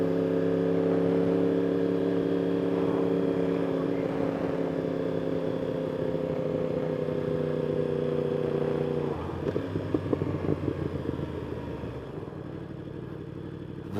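A 2021 Yamaha R1 with a Woolich tune holds a steady, close engine drone, then the exhaust breaks into a run of crackling, popping burbles as the throttle closes and the engine winds down.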